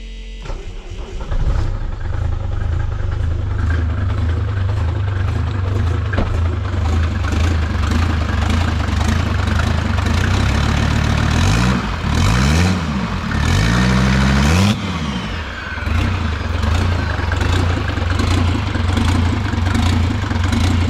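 A 400 hp car engine starts and settles into a rough, uneven idle, loud and close, with several blips of revving mid-way before returning to the lumpy idle.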